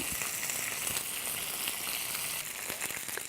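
Food sears in a hot pan, a steady, bright hiss of sizzling and crackling spits that stays loud and even throughout, close up with no voices.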